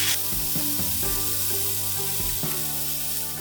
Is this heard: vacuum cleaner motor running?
no